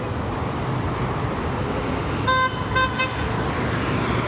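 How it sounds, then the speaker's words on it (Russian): A few short car horn toots sound over steady traffic rumble in Uzbek city traffic, two or three brief honks close together, no voices. "Эти все сигналят."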